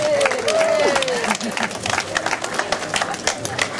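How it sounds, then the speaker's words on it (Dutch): Dutch audience applauding performers at a show, a dense, steady wash of clapping and crowd noise with a few whistles and cheers on top, sustained and fairly loud throughout. "Geef ze een applaus, dames en heren."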